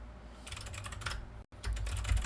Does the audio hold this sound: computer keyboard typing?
yes